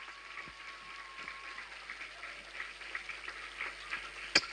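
Audience clapping at a school gathering, a dense steady patter of many hands held at moderate level throughout, with one sharp louder clap near the end.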